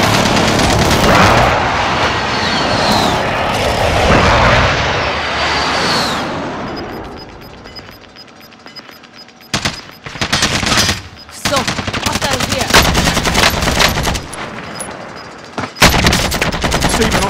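Loud gunfire in the video game Warzone: rapid automatic bursts and heavy booming shots, first a dense roaring barrage, then a quieter lull followed by sharp repeated volleys and bursts, with faint game radio voices.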